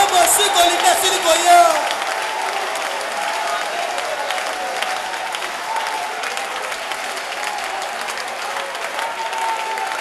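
A crowd applauds steadily at a festive Feast of Tabernacles church gathering, with scattered cheers and a brief musical tone near the start, sustained clapping filling the whole stretch at a fairly loud, even level.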